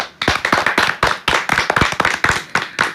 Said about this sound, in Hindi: आदित्य के लिए पहले हम तालियां बजाएं।